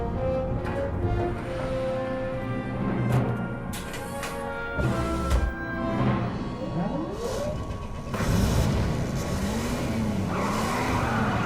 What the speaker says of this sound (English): That is a fast car.